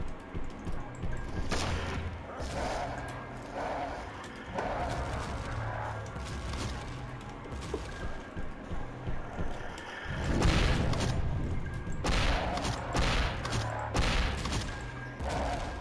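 Point-blank gunshots from the first-person shooter Hedon: Bloodrite, heard as loud, dense bursts of booming fire with crashing impacts. Several clusters of blasts come through, with the heaviest volley in the second half.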